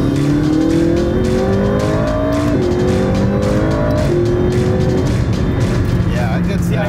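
A McLaren 675LT sports car accelerates hard, its engine note loud and rising steadily through gear changes over about seven seconds.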